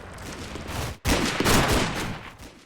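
Heavy gunfire pours from a large three-story town building in the World War II game Combat Mission near Aachen, a loud continuous fusillade broken by a sharp cut near one second before a fresh, denser burst.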